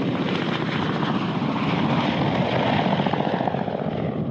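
Ka-50 and Mi-28 Russian attack helicopters, a loud continuous rotor and engine roar with rapid blade chop, steady and close, with no voices.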